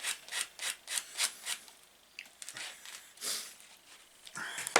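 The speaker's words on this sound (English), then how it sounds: "all I'm doing now is using a sanding block just to take off the edge" Rhythmic rasping strokes of a sanding block rubbing along the wooden edge of a child's art easel, close by, in quick repeated bursts with short pauses between.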